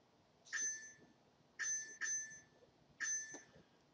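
Four short, bright electronic bell dings ring out, the middle two close together, with quiet pauses between.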